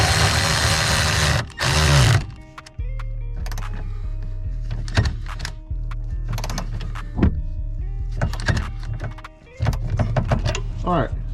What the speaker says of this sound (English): I hit it with the electric ratchet